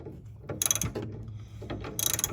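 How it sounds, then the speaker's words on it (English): A ratchet clicks in quick bursts while tightening rear sway bar bushings on a 2007 Hyundai Sonata, two rapid runs of close metallic clicks with a pause of fainter handling noise between. "So these are the bushings that I'm tightening in"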